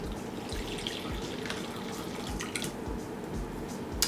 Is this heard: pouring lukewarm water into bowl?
yes